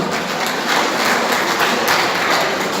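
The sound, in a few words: audience applause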